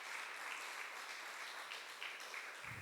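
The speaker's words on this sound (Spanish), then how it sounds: "Dale un aplauso a Jesús." A church congregation applauds during a service, with steady, dense clapping at even volume throughout.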